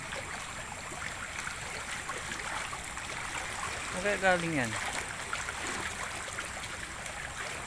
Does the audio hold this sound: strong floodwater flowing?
yes